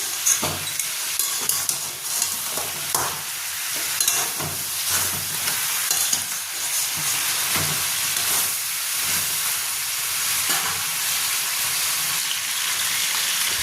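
Crab fries in a pan for a spicy Bengali kakra kosha, giving a bright, continuous sizzle with crackling pops and occasional stirring scrapes, close and steady throughout.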